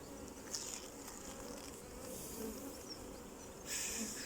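Honey bees buzzing steadily as a beehive is split into two, a continuous low insect hum carrying through the whole stretch with a few brief brighter rustles, no talking.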